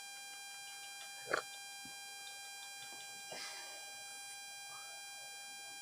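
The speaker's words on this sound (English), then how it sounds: "laying down a timer" A timer sounds once during a podcast discussing NFL week 3, a brief beep followed later by a fainter electronic chirp over a steady electrical hum, with no speech.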